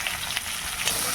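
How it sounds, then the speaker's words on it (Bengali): Chopped onions frying in a pan until browned give off a steady, close, dense sizzle with a few faint crackles and no voices. "এবার আমি পেঁয়াজটা লাল করে ভেজে নেব"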